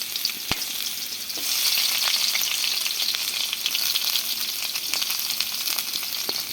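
Garlic and onion frying in hot oil in a pan, giving a steady bright sizzle that holds throughout, with occasional stirring clicks and scrapes close by.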